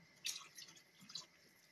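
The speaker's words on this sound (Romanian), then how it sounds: "Mai băgăm un pic de apă și gata." A little water is poured into something, heard as a few soft, faint splashes and drips, with no voices present.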